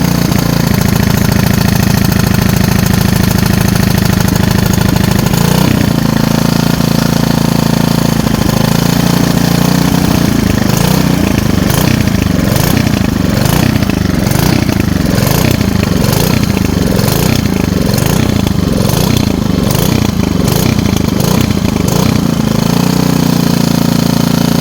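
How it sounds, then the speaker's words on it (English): Old tiller's small engine running and surging, a loud, close, continuous chugging whose speed rises and falls in a rhythmic pulsing pattern, with no talking. "We've got my old tiller, and it's surging."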